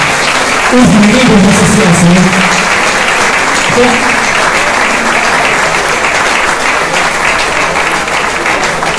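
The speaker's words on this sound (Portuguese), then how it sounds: "Eu queria que eles estivessem de pé, por favor, para todo mundo aplaudir os monitores" Sustained applause from an audience at a university event honoring the event monitors, dense steady clapping throughout with a voice speaking briefly over it near the start.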